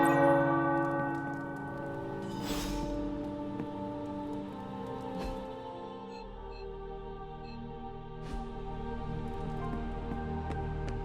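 Tower bells ringing within the Marvel's Midnight Suns video game, their sustained tones layered over a steady ambient bed with a few soft strikes, heard alone without talk.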